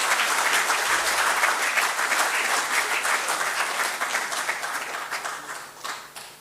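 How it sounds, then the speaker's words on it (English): A lecture audience applauds to welcome the speaker at a memorial lecture, with dense, sustained clapping that fills the room and slowly thins out toward the end. "Please join me in welcoming him with a huge round of applause."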